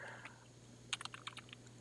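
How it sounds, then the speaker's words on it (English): Fingers tap out a name on a computer keyboard in a quick burst of about eight close, crisp keystrokes. An earlier faint tap comes over a low steady hum, and no one speaks. "Just typing in the author's full name."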